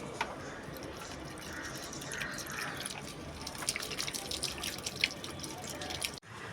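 Potted flowering plants being watered in the morning, a close, continuous patter and dripping of water onto soil and leaves, moderately quiet throughout.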